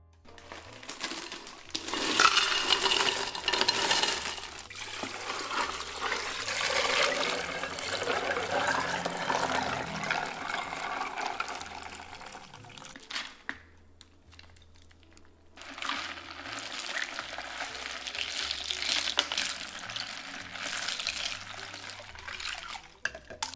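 Sweetener being stirred into a cucumber and pineapple agua fresca: a continuous watery swirl and sloshing of liquid, close and moderately loud, with a brief pause midway before the mixing resumes.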